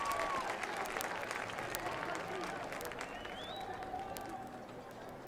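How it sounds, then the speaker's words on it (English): A high school football stadium crowd applauds an injured player, steady clapping spreading across the stands with a few whistles, sustained and slowly fading. "gets a big round of applause from the crowd here"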